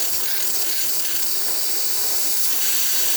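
Steam hissing steadily from the steam wand of a freshly serviced Breville Barista Express espresso machine, a loud continuous broadband rush that stays even throughout.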